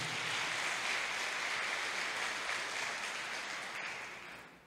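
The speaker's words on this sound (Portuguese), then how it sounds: "Então aplauda ao Senhor, você que quer receber." A church congregation applauds in a steady, dense wash of clapping that holds evenly and then fades out toward the end.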